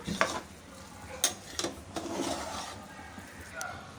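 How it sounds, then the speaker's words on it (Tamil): Cooked raw rice and toor dal being stirred and mashed with a ladle in a pot, with soft scraping and rubbing strokes and a few sharp clinks, fairly quiet. "அந்த கரண்டியை வச்சு நல்லா அப்படியே மிக்ஸ் பண்ணி விட்டுக்கலாம்"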